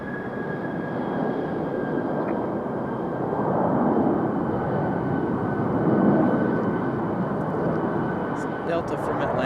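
A Delta airliner from Atlanta at Raleigh-Durham airport gives off a steady, broad jet roar that swells gently twice and then holds, heard from a moderate distance.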